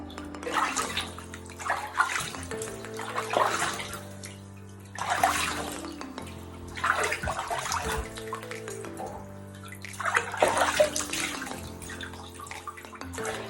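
Running water splashes into a bathtub as legs are wetted, arriving in three long bursts separated by short pauses, close and fairly loud.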